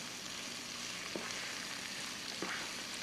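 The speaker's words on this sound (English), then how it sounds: "that's going strong while we saute our vegetables" Vegetables sauté in a hot pan with a steady broadband sizzle and hiss throughout, plus two brief soft clinks or stirs partway through, fairly close.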